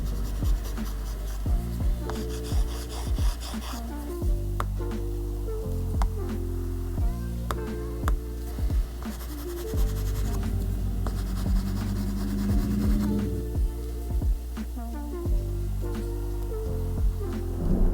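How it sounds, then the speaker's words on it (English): A pencil stylus writes on a matte iPad screen protector, producing close, scratchy strokes in repeated short bursts over a low steady hum. "here's a sound test of writing on their screen protector."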